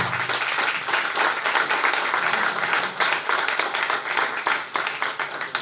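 A conference audience applauds the arrival of a judge, a loud, dense spell of many hands clapping with slight swells and dips, continuing steadily throughout.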